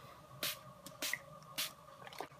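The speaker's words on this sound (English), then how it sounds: "But first I am going to be using my e.l.f. face setting spray" e.l.f. face setting spray is misted in three quick, evenly spaced hissing bursts up close, with faint softer sprays after and no talking.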